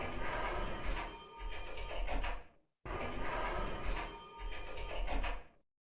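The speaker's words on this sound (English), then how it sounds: "there is a telephone ringing in the background in a different room" A telephone bell rings in another room, two long trilling bursts with a short gap between them, heard at a muffled distance over a quiet indoor background.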